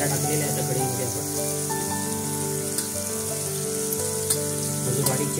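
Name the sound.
chopped onion frying in tempering in a kadai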